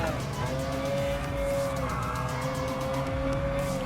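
McLaren F1 GTR race car in Gran Turismo Sport on the Autopolis circuit, its engine holding a steady, loud high-revving drone with faint tyre scrub underneath, no talking.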